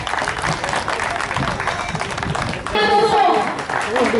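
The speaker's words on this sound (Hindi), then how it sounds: "मैं अनुरोध करता हूं आप सबसे कि उनका ताली बजा" Audience applause bursts out at a picnic-cum-AGM gathering to welcome a guest, a dense wash of clapping that swells louder in the final second and a half, with voices mixed underneath.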